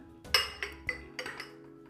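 A few sharp clinks of a glass knocking against a hard surface as it is placed on a stick of butter, close by, with short pauses between the taps.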